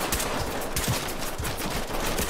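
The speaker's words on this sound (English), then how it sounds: "Oh my God, where am I getting shot from?" Rapid gunfire in the tactical shooter Ready Or Not, a dense, loud stream of close shots with cracking bursts and no pauses, going on through the whole stretch with no voices over it.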